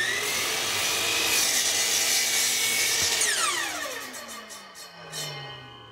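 Miter saw crosscutting a wide wood piece: steady whining cut through the board, then the blade spins down with a falling pitch as the saw stops, close and alone.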